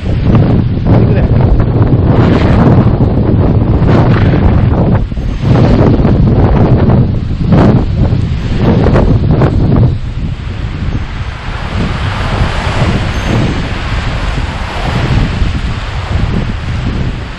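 Strong wind roars across a mountain trail just below the summit of Mount Oguni, buffeting the microphone loudly and continuously with repeated gusting surges.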